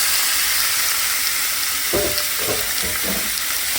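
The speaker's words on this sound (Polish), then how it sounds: "mięsko się podsmaża" Chicken wings and breast pieces fry in a pan with a steady, bright sizzle throughout, and a few stirring knocks and bursts of spattering come near the end. No voices are heard.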